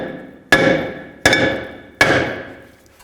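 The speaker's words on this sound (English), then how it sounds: "I'm just going to use a hammer and just tap in these areas." Three loud metallic hammer strikes on the rear brake rotor of a 2013-19 Ford Police Interceptor Utility, evenly spaced, each leaving a bright ringing tone that fades before the next hit.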